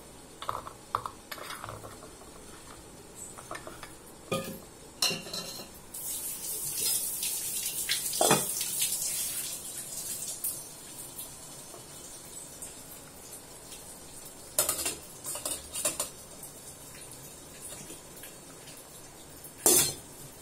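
Metal clinks and clatters sound as batter goes into the plates of an idli steamer pot over boiling water in a home kitchen. The knocks are sporadic and close, with faint water sounds between them and no talking.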